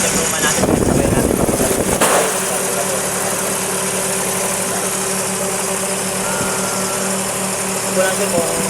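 A Daihatsu Charade engine idles steadily after an electric fuel pump install, giving a continuous close, even hum with a faint tonal whine, following a brief rough burst of noise at the start.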